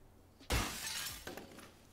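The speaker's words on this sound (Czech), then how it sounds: "Rozbijem to sklo." A car window is smashed in a driving game, giving one sudden loud shatter of breaking glass followed by a short tinkling spill of shards.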